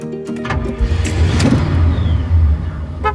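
A car driving along the road on a road trip, with a steady, loud engine and road rumble rising slightly and holding throughout, a brief whoosh passing midway and no talking.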